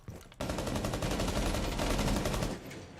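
Rapid automatic gunfire in the video game Rainbow Six Siege during a college esports match, a sustained burst of close shots lasting about two seconds after a brief quieter lead-in.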